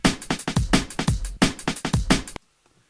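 A fast drum and bass shuffle programmed in MIDI from short, punchy snare samples rattles off in a quick uneven rhythm for about two seconds, then cuts to silence.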